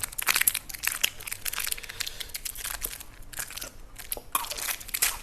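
Candied red peach crunches loudly under close biting and chewing, a dense run of crisp crackling bites filling the whole stretch without speech.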